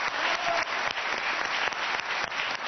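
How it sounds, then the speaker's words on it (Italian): Studio audience applause on a TV quiz show greets a contestant, a dense steady roar of clapping from many hands, loud and continuous for a few seconds. "si è prestato un grande applauso"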